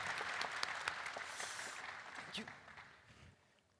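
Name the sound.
audience applause welcoming a speaker to the stage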